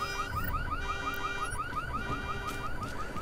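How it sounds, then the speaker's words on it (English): A parked car's alarm goes off in the PC video game Deus Ex: Mankind Divided, a loud, continuous run of rapid repeating electronic chirps that sounds alone throughout. "I guess it makes sense that the cars have alarms."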